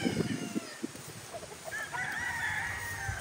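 Gamefarm stags on a rooster farm, with clucking and short calls up close at first, then a drawn-out crow rising over the background, fairly near and moderately loud.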